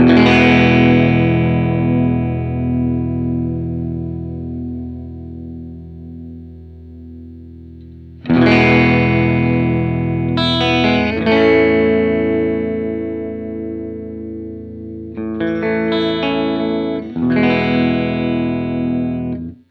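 Fender Player Plus Nashville Telecaster chords through an Electro-Harmonix Stereo Pulsar Nano tremolo pedal and Strymon Iridium ring out and decay slowly, struck in a few separate bursts, with a pulsing, wavering effect colouring the sustained tone.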